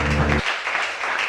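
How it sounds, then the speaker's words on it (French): A church congregation applauding, a brief wash of clapping after a voice cuts off at the start, steady and moderately loud. "Acclamez Shaddai. On acclame bien."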